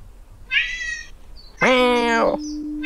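A cat in a video game lets out two meows, a short one and then a longer, louder drawn-out one, with quiet background sound between them.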